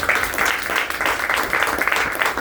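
Steady applause from an indoor audience at a DXN presentation gathering, dense overlapping hand claps sustained throughout without a break.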